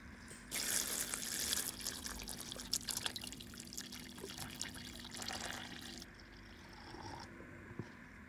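Cold water pours from a tap into a large pot holding glass jars set on a cloth at the bottom, a loud steady splashing stream that cuts off, leaving faint drips.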